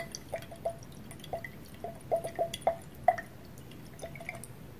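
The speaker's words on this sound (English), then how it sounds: "Now with the sucrose in it, we'll shake that." Water and dissolved sucrose shaken inside a test tube give a scatter of small, close liquid drips and splashes, light and irregular, alone with no talking.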